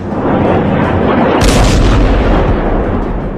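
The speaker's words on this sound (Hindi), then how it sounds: "तेल अवीव पर खुर्रम शहर मिसाइलें गिर रही हैं।" Missile strikes and explosions over Tel Aviv produce a continuous roaring rumble of distant blasts, with a sharper crackling burst partway through and no talk.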